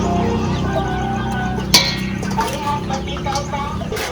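Chickens on Sir Bobby's poultry farm cluck and murmur in overlapping calls, close by and fairly loud, with a sharp clink partway through and faint voices of people talking in the background.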